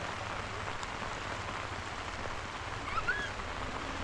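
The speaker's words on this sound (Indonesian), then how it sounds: "Dan ternyata habis maghrib hujan turun kembali." Steady rain patters on a campsite tent at night, a dense even hiss throughout with a faint distant chirp near the end.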